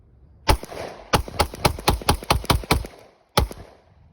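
Glock 29 pistol in 10mm with a melted magazine release firing at an outdoor range: a single loud shot, a rapid burst of about nine sharp reports, then one more shot after a pause.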